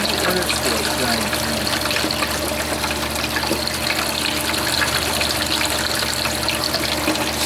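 Water runs steadily from an outdoor wash spigot fed by a pump at a gold-mining setup, a constant broadband rush with a low pump hum underneath, continuous throughout with no clear speech.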